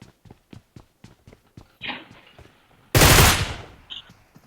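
PUBG Mobile gunfire in a duo-versus-squad match, a rapid run of sharp, evenly spaced shots followed by a louder, longer burst that fades out.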